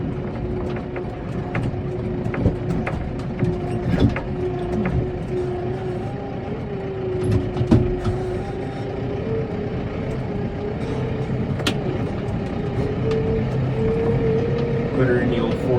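A New Holland T4.75 tractor pulling an antique Dearborn plow through a field runs with a steady engine drone and scattered clanks and rattles, with a person talking over it.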